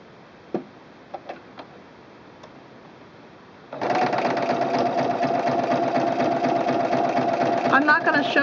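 Zigzag overcast stitching along a seam allowance with an overcast foot, stitch at 2.5 width and 1.4 length: a few faint clicks first, then steady, loud, continuous machine running for several seconds.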